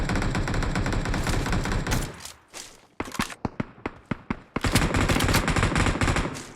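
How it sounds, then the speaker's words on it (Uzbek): Heavy gunfire in the PUBG Mobile video game: dense sustained automatic bursts, a short lull, then a series of separate sharp shots before rapid fire resumes loudly. "Qattiq otishma bo'lyapti."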